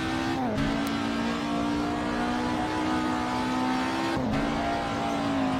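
A Ford Escort's engine drones loudly and continuously while driving, with brief dips in pitch as gears change, heard up close from inside the car.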